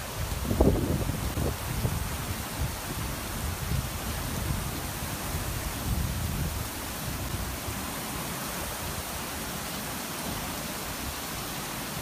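Strong wind from Typhoon Hato sweeps across the Star Ferry Pier in Hong Kong, a steady broadband rush with a few gusty bumps early on, then a constant even roar, without speech.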